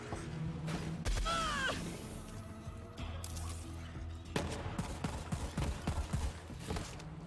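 Semi-automatic gunfire in the video game Borderlands: a burst of loud, sharp shots with crashes and impacts, followed by scattered irregular reports and game effects, at close range with no talk.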